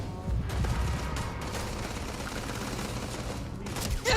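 Rapid sustained gunfire from a Starfield combat encounter, a dense continuous volley of shots filling the whole stretch at close range with no talking over it.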